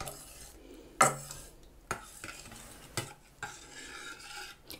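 A spoon stirs dissolving gelatin into blackberry juice in a pot, soft scraping and occasional sharp clinks against the rim, a gentle liquid swish beneath, no talking.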